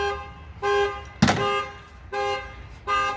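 A car alarm blares in repeated loud, tonal horn pulses, three long blasts separated by short gaps, with a sharp click-like burst between the first two, close by and without talk.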